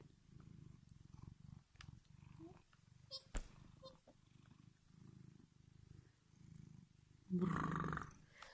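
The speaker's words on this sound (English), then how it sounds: "He purrs so loudly, can you hear that?" A cat purrs loudly and close, in a steady rumbling rhythm of breaths, with a few small clicks and a louder burst near the end.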